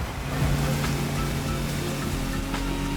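Racing boats skim across the Hawaiian ocean in The Crew Motorfest, a steady roar of engine drone and rushing water spray that holds loud and even throughout, with no voices.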